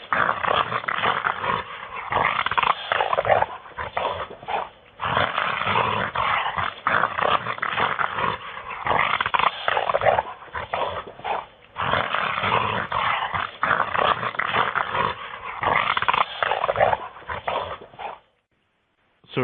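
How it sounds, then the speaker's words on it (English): A recorded gorilla snarl plays back through a narrow, muffled channel: continuous rough growling and snarling for about eighteen seconds with brief pauses, loud and sustained, then cuts off. "One is a gorilla snarling, which we don't have gorillas in North America"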